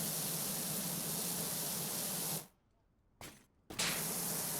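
Pressure washer spraying in the game PowerWash Simulator, a loud steady hiss that cuts off abruptly into silence, bursts back briefly, then resumes continuous.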